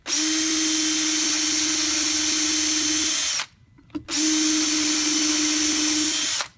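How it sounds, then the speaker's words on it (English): A power drill pre-drilling screw holes through a hardwood door of oak, ash or maple, running in two long, steady, high-pitched whining bursts with a short pause between them, close and loud with no talk. "pre-drill the holes for the door"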